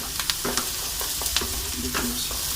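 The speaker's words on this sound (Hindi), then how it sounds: "इसको हमने रेड करना है, प्याज़ों को ना अच्छी तरह भूनना है" Onions frying in a pan while cooking Mughlai chicken, a steady soft sizzle with occasional spoon or spatula stirring clicks, close and alone without talk.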